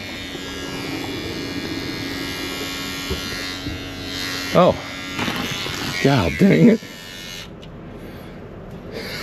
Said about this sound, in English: It's my god dang toothbrush. That just decided to work.